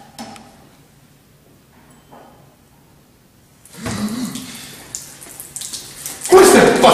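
Water gushes from a tap, starting abruptly after several seconds of near silence and then surging louder and harsher toward the end.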